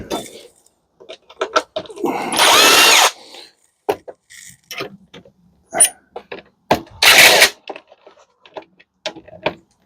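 Power drill removing screws from a dishwasher, two loud whirring bursts of a few seconds each amid scattered clicks and handling knocks at close range.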